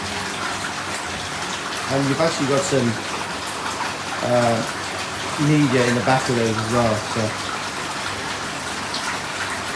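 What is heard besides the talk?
pumps moving water in a pond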